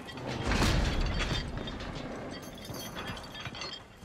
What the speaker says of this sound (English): Step two. Raise the chandelier.